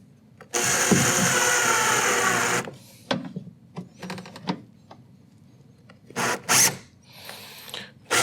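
A screw is driven into the hull of a Hobie Mirage Passport 12.0 fishing kayak: one long whirring burst, then several short bursts with quiet pauses between them, all close by.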